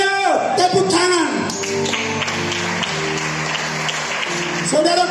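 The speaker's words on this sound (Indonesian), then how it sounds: "Tepuk tangan." Congregation applause at a Sunday morning church service, a few seconds of clapping mixed with music and crowd noise, following a voice at the start.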